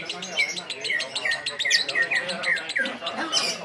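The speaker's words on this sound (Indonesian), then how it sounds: "ini burungnya udah bunyi" A songbird sings close and loud, with a continuous stream of bright chirps, trills and quick whistled notes repeated without pause.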